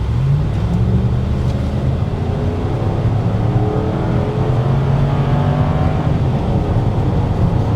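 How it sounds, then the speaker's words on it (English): A V8 Ford Taurus SHO pulls away and accelerates in first gear, its engine note climbing steadily as the revs build. The sound is loud and continuous, recorded close from inside or near the car, with no voices. "I don't want to launch it too hard, but I am curious to see if that first gear drags out again"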